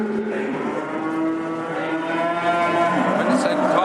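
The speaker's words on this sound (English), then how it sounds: "we've come along to Hexham livestock market, where they sell cows and sheep and that kind of thing." Cattle at the Hexham livestock market give a loud, drawn-out moo close by that holds for several seconds, with fainter livestock noise and crowd bustle behind it.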